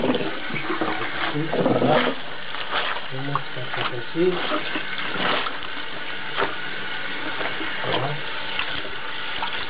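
Water running and splashing as a T-shirt is rinsed after a boiling-water experiment, a continuous watery hiss with sloshes and handling noises, while someone speaks French over it.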